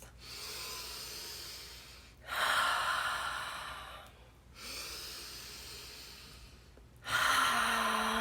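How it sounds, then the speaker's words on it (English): Deep, slow breaths during a breathwork session, drawn in through the nose and pushed out through the mouth, in four long alternating cycles. The breaths are close and loud, and no one speaks over them. "breathing in through the nose and out through the mouth."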